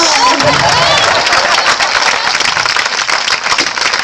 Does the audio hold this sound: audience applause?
yes